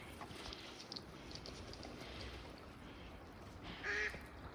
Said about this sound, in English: Just good old mallard ducks.